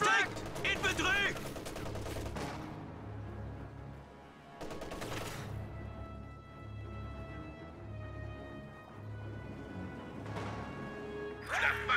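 Sustained battlefield gunfire in a video game match, bursts of rifle and machine-gun shots rolling through the whole stretch with a brief lull midway, while voices call out over the fighting.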